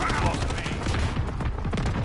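Loud, dense gunfire in a Call of Duty Modern Warfare match, a sustained close-range volley of rapid shots with no talk over it.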